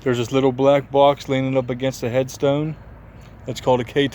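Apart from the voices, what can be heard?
None of the usual background noises is heard.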